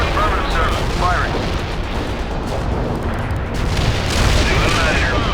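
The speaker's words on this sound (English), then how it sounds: "Artillery barrage in for full effect. Heavy artillery, yes, sir." Heavy artillery barrage in the World in Conflict strategy game, a dense continuous roar of booming blasts and rumbling impacts filling the whole stretch, loud and sustained with overlapping explosions.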